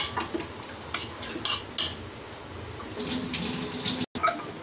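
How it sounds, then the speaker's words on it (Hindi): Water pours from a tap into a pot of chicken chana dal with potatoes, a steady close rush with clinks of utensils against the pot and a brief cutoff near the end. "तो अब आप देख सकते हैं मैंने इसमें पानी डाल दिया अपने हिसाब से।"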